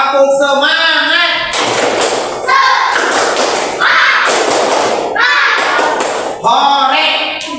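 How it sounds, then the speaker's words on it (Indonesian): Classroom of madrasah children doing a rhythmic spirit clap, a burst of sharp percussive claps and thumps in quick sequence mixed with children's shouts and voices, close and loud. "Tepuk semangat."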